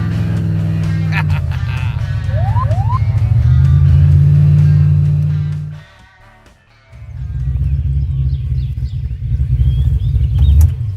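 A car with an 871 supercharger cruises at night, its engine a loud, steady low drone that drops away briefly near the middle before surging back, with occasional high squeaks and faint chatter over the top.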